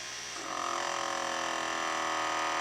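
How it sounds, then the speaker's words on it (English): A PSX 2500 power steering service machine drains and fills power steering fluid with a steady electric motor whine and hum that swells after a moment, then holds level and continuous. "use the pendant supplied with the machine to drain and fill"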